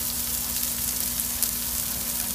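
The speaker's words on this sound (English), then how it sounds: "Oh yeah, just sizzling away." Steady, close sizzling and crackling of shrimp frying on a hot salt block, a continuous hiss with a faint underlying hum.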